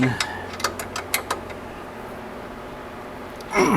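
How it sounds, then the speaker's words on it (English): Ratchet wrench tightening pivot bolts on a 2009 EZ-GO RXV gas golf cart, a quick burst of about six sharp clicks in the first second and a half, then quiet hum. "Now I'm going to do the final tightening on my pivot bolts here, just to make sure."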